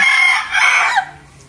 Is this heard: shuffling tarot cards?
no